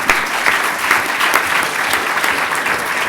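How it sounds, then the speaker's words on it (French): An audience at a conference session in Aix in 2013 breaks into loud, sustained applause, many hands clapping densely and evenly for the whole stretch with no voices over it. "On peut l'applaudir."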